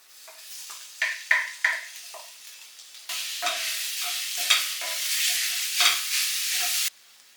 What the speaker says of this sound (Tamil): அந்த சோயாவோட பேஸ்ட் அதையும் நம்ம இது கூட சேர்த்து நல்லா கலந்துக்கலாம்